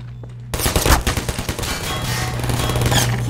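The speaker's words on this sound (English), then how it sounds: "Take that turret down, Gordon." Automatic turret in Half-Life 2 Episode Two firing rapid, loud bursts of gunfire that start abruptly and keep going to the end, with no talk over them.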